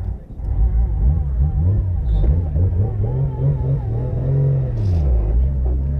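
Turbocharged JZ engine in a drift car, its revs rising and falling in smooth swells under a constant cabin rumble, with people talking over it.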